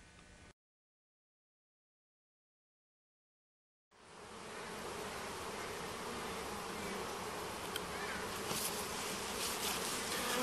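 A dense, steady buzz of many honey bees on a hive frame, close and continuous, after a brief burst and a few seconds of silence.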